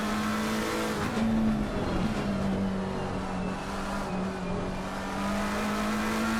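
Race cars including a Ferrari lapping Brands Hatch in a Shooting Stars Cup race, a steady loud engine drone with shifting pitch as the cars run close together, continuous throughout with no talk.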